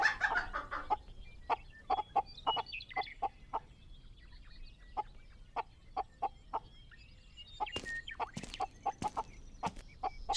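Chickens clucking in a Bengali animated cartoon, a series of short, evenly spaced clucks and squawks from a flock, with a burst of louder overlapping calls near the end, clear and with no talk.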